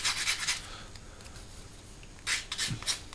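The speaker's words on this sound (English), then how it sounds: "we're going to sand this off" A part from a Hasegawa 1/48 F/A-18F plastic model kit is sanded by hand in short, close, gritty bursts, separated by a quiet pause, with no talking.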